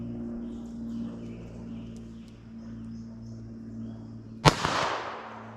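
A single sharp pistol shot cracks out near the end, loud and close, from a pocket gun firing .22 LR or .32 S&W Long, with a steady low hum before it and a brief decaying tail after.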